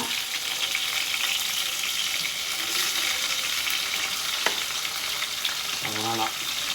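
Cumin, chillies, green chillies and onion fry in a hot pan with a dense, continuous sizzle. A couple of brief clinks and scrapes stand out near the end, and there is no talk.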